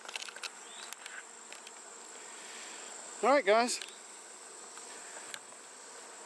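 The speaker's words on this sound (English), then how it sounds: "They are just flat out in a feeding frenzy, getting in and out" Bees buzz around open feeders in a feeding frenzy, a low, steady hum, with one louder insect whirring close by for a moment; someone speaks briefly.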